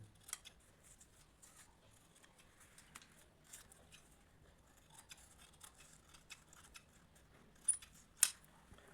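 Scissors snip through a fabric strip in a series of soft, scattered crisp cuts, close and fairly quiet, with two sharper louder snips near the end and no talking.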